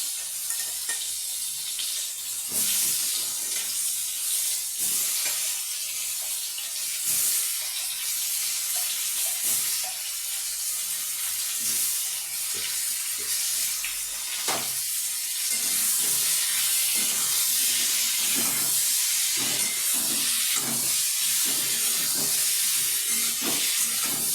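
Pumpkin slices frying in oil in a pan over a raised gas flame, a steady broadband sizzle and hiss with scattered pops and crackles running the whole time, close and fairly loud with no talking.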